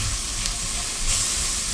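Chipotle peppers sizzle in a hot pot as they are stirred, a dense hissing fry with a brief clink of the spoon, close and steady with no talk.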